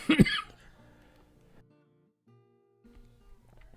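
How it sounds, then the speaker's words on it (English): A single harsh cough bursts out loudly at the start, followed by quiet breathing and faint low sounds. "Sorry, coughing less than I was"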